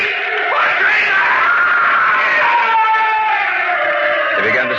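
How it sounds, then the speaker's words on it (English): A man screams in anguish in a 1950s radio drama adaptation of The Cask of Amontillado, a loud, sustained, wavering cry lasting several seconds with no other speech. "He began to scream."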